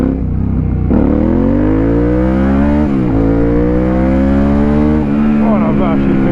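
A motorcycle, a Suzuki SV650 or Kawasaki ER-6n with freshly changed brake pads, revs hard close to the microphone. Its engine pitch climbs steadily, drops sharply at a gear change, then climbs again, loud and continuous.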